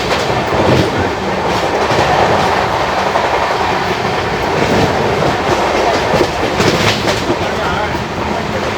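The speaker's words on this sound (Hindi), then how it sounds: "चलिए छत्तीसगढ़ एक्सप्रेस को तो हमने ओवरटेक कर दिया" Tamil Nadu Sampark Kranti Express train running near Vidisha, heard from on board as a loud, continuous rumble with rhythmic clickety-clack of wheels over rail joints and faint squeals.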